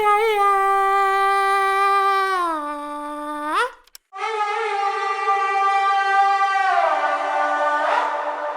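A sung, scream-like voice within an orchestral Star Wars rescore holds long harmonic-rich notes, sliding down, cutting off briefly, then returning as a sustained loud tone that ends in a ragged, breathy wail.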